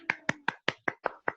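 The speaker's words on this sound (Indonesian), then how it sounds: "Udah tepuk tangan buat kelompoknya Dedek" Seven evenly spaced hand claps ring out close and distinct in a classroom, as if a single person or small group applauds a student group, with short silences between each clap.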